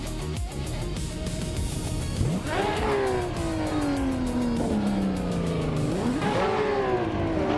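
Race cars in a racing video game launch off the start at Maple Valley short reverse, a 1998 car on pole among them. Loud engines rev and climb through gear shifts, with rising whines and tire squeal close up and continuous throughout.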